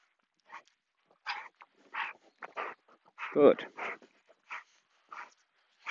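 A dog whimpers during an obedience training session, giving short, high whines with one louder, longer whine in the middle, close by and mixed with a trainer's brief spoken praise and cues.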